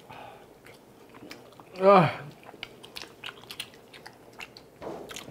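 Close, wet chewing of spicy tteokbokki and a hotdog with glass noodles, soft mouth sounds and smacking under intermittent quiet talk, with one louder vocal burst midway.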